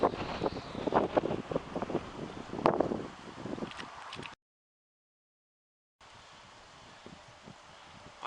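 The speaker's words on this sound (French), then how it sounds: "Putain de vent là, c'est mortel." Strong wind buffets the microphone at a carp fishing spot, a loud, gusty roar with rustling for about four seconds, then a sudden silent gap before a softer steady rush of wind returns.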